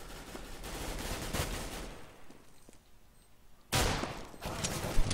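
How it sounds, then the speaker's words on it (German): Rapid rifle gunfire from a professional Counter-Strike: Global Offensive match on the Mirage map, delivered in dense bursts that pause briefly and then resume loudly near the end. "Schöne Schüsse für den Adrian."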